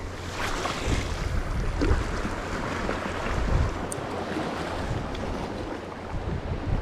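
Steady, broadband crosswind rushing across the microphone outdoors while squid fishing in Spain, with gusty swells and a low rumble.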